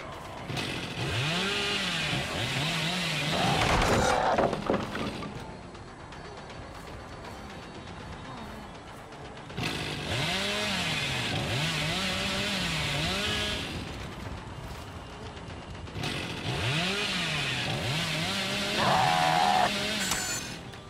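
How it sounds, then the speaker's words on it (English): The Hillbilly's chainsaw in the video game Dead by Daylight revs in three long, loud bursts with rising and falling pitch, with quieter engine idling between them. "I meant to flutter the chainsaw."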